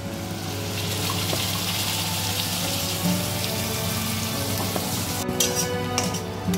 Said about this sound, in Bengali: এটাকে ভালো করে একটুখানি ভেজে নেব, এই বাটা পেঁয়াজটা আর টমেটোটা একসাথে